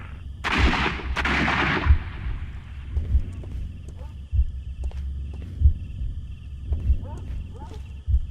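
Gunfire in a Sherlock Holmes video game: two loud, close blasts at the start, then scattered thuds and pops. Someone talks over the later part.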